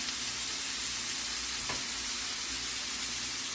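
Bacon-wrapped enoki mushrooms sizzle on a stovetop, a steady, dense crackle and hiss of frying that holds at an even level throughout, with no voices.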